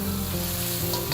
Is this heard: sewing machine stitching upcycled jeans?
no